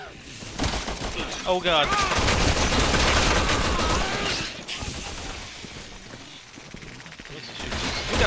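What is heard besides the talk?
gunfire in the video game Resident Evil 6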